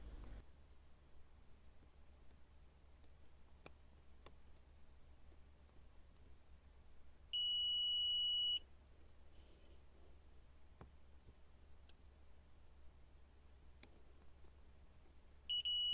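A multimeter's continuity beeper sounds on optocoupler pins during an inverter battery-management board repair: a steady high electronic tone about a second long, then another starting at the very end, over a quiet hiss with a few faint clicks.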